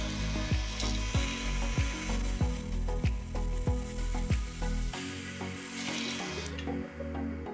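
A saw cuts a slot through metal in a steady series of rasping strokes, about a dozen sharp pulses, close and loud, with a scraping hiss after.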